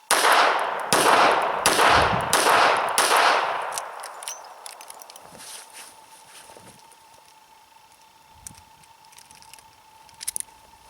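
Handgun shots from a snub-nosed S&W Airweight .38 revolver or a Kahr PM9 9mm pistol during draw-from-holster shooting drills, five sharp, loud reports in quick succession followed by quieter handling clicks and movement.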